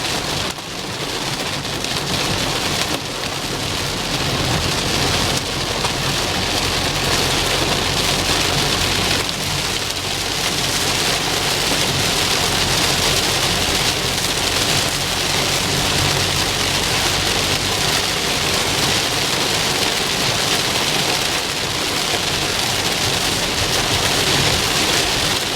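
Heavy rain falls during a thunderstorm, a loud, dense, continuous hiss of drops on surfaces with low rumbling underneath, and no voices.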